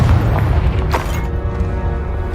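Deep booming explosion from the Confringo spell in Hogwarts Legacy, a loud low blast with a sharp crack near the one-second mark that rumbles and decays over the rest of the clip.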